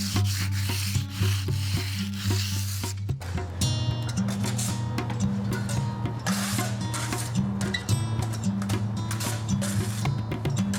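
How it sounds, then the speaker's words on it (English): Sandpaper works over a limestone tadelakt base coat on a shower, making a steady, close scratchy rubbing that continues without a break and shifts in rhythm partway through. "Sandpaper can be used to detail outside corners."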